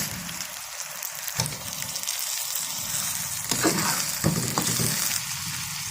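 Chicken pieces dropped into softened, browning onions in a pan for biryani, a loud close sizzle with bursts of stirring and scraping, no voices.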